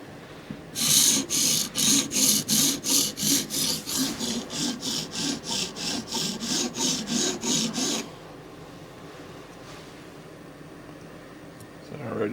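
Blade of an OTF knife being sharpened on a stone, with about a dozen steady rhythmic rasping strokes in a row, close and fairly loud, then stopping and leaving quiet room tone.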